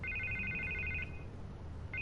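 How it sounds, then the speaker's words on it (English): A telephone in the video game Batman: The Telltale Series rings with a steady electronic trill, one long burst, a short pause, then the ring starting again, loud and close over a low background hum. "I can't get the phone to stop ringing"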